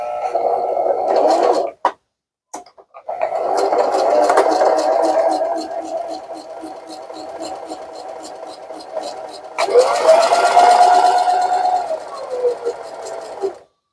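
A sewing machine stitches the fabric tube of a scrunchie, its steady motor hum running in bursts with a short pause near the start, while someone talks over it throughout.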